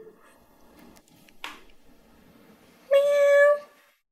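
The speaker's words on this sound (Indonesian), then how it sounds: "Kucing kali ya?" A cat meows once, a clear drawn-out call lasting about half a second near the end, preceded by quiet indoor background noise and faint rustling.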